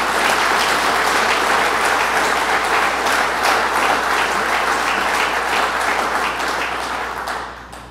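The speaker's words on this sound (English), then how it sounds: "Randy Douglas, let's give him a round of applause." A crowd at the opening of a rebuilt fire station in Upper Jay gives Randy Douglas a round of applause. The clapping is loud and dense, holds steady throughout and tapers off at the end.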